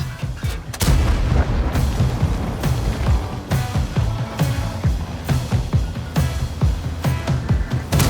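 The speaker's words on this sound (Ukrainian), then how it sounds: "Це був твій останній постріл Су-130." Tank cannon fire in the World of Tanks game, including shots from a Su-130, with repeated heavy booms and gunfire blasts in irregular succession, loud and close over battle rumble.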